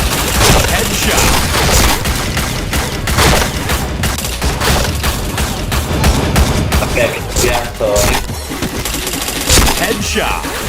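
Dense, loud, nonstop gunfire from a shooter video game, with rapid bursts and overlapping shots running throughout.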